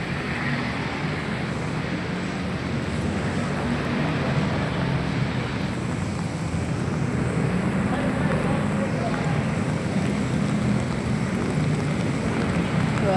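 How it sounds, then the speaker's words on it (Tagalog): Heavy, unbroken rain pours steadily outdoors as a broad, even roar, with no gaps for about thirteen seconds and no clear voices over it. "Walang tigil ang ulan."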